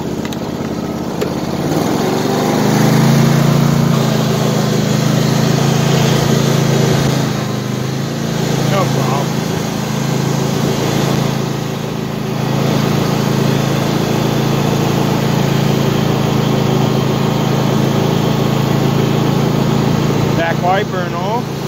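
Husqvarna YTH2454 riding lawn mower, its small engine running steadily nearby with a droning hum and slight rises in revs, a person's voice sometimes speaking over it.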